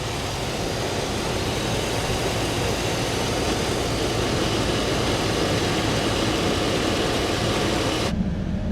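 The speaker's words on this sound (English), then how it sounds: "I can hear the compressors on now," A Chevy Silverado pickup's A/C compressor runs with the engine going, a steady dense mechanical whir and hum that holds evenly, then drops sharply near the end.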